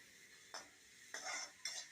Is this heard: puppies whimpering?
no